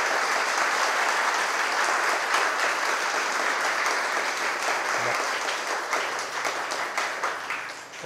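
Sustained audience applause at a Tamil speech event, a dense, even wash of clapping from a large crowd lasting several seconds before gradually thinning toward the end.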